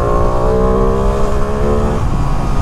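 A 2023 Ducati Panigale V2 motorcycle accelerating on city streets around New York, a loud, close, sustained engine drone with rising harmonic tones that shift near the end.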